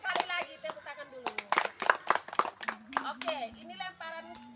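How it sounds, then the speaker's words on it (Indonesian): Schoolchildren clap their hands together in rhythmic bursts during a physical education lesson on throwing and catching, sharp close claps with a teacher's voice and children's speech mixed in between. "Sekali lagi tepuk tangan dulu."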